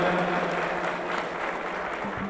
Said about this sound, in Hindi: इन तीनों एमएलएज के लिए एक बार जोरदार तालियों से अभिनंदन।